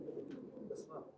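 Pigeons coo softly at close range in a brief low, murmuring burst, with a faint higher chirp over a muffled background.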